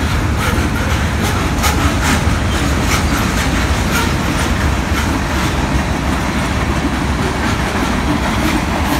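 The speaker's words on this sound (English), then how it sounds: "Got a train." A CSX locomotive leading a CN manifest freight train passes near Lucedale, a loud continuous rumble with rhythmic clickety-clack of wheels over rail joints, close and unbroken for several seconds.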